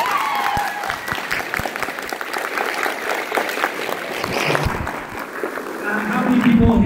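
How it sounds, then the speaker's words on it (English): A convention audience bursts into steady, loud applause with scattered cheers, the clapping fading slightly midway before swelling again at the end. "So, round of applause."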